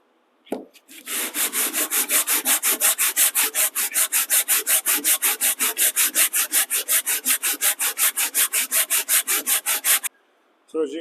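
A fully assembled Stanley Bailey hand plane with its sole being flattened on sandpaper, a loud, close, rhythmic series of about thirty rasping back-and-forth strokes that stop abruptly.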